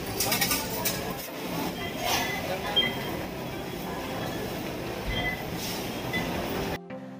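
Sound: train at Carriedo Station

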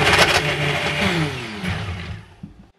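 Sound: Vitamix blender blending frozen fruit

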